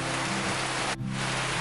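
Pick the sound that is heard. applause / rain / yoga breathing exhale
rain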